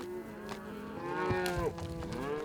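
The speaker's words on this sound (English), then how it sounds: "With young calves just a couple months old, you have to push these cows every step of the way." Several cows with young calves about two months old low and moo steadily while being driven on foot along a roadside by ranchers, overlapping calls close by with no talking.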